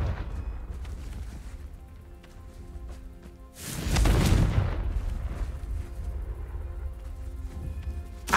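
A Confringo fire-blast spell explodes in Hogwarts Legacy, a single loud booming burst with a rushing crackle about halfway through, trailing off over low game ambience.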